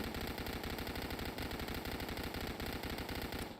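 Rapid, unbroken automatic fire from the Gut Stitcher SMG in the online zombie game Dead Frontier, a dense rattling stream of shots at steady high rate, loud and close throughout.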